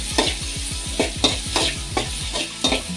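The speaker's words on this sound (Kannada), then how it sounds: "ಈರುಳ್ಳಿ ಹಾಕ್ಕೊಂಡು ಸ್ವಲ್ಪ ಫ್ರೈ ಮಾಡ್ಕೊಳ್ಳೋಣ" Finely chopped onion frying in oil in a pan for an okra gravy, with a steady sizzle broken by rhythmic scraping stirs about every half second, close and alone with no talking.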